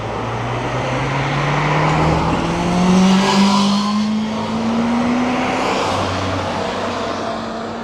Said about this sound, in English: Flying past on a motorbike.